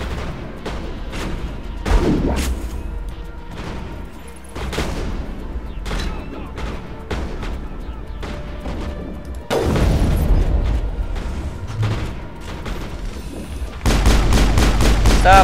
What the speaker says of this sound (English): See, that's what cannons are for.